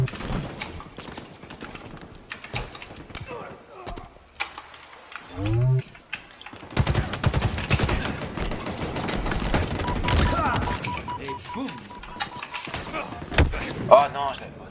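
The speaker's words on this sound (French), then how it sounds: "C'est celle que j'ai, c'est une mitraillette. Enfin, c'est plutôt un fusil d'assaut" Assault rifle gunfire in Halo Infinite, rapid bursts and thumping impacts in a dense, loud stretch of game action, with someone talking over parts of it.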